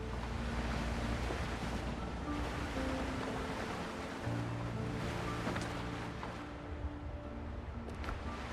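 A small single-crew pirate ship sailing on ocean waves in the Windrose survival game, a steady wash of surf and wind with a low continuous rumble, no voices.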